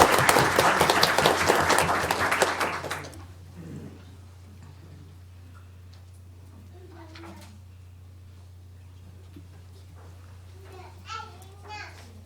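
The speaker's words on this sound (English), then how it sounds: "Join me in a round of applause." Audience applause at a school board meeting, a dense burst of clapping for about three seconds that quickly stops, followed by a quiet room with steady hum, faint shuffling and scattered murmurs.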